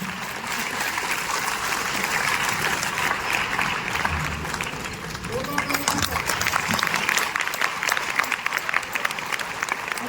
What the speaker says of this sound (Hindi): आप तालियों में कमी मत करिए